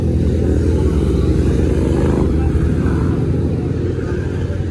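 Three unplated motorcycles with open exhaust pipes, stopped at a traffic checkpoint on Marilaque highway, give a loud, steady low rumble throughout with no clear revving peaks.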